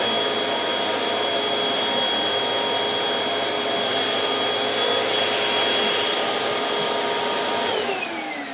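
Hoover Windtunnel 2 HC Pet upright vacuum cleaner running steadily indoors, a loud continuous motor whine and airflow roar with a faint high tone, alone and without talk.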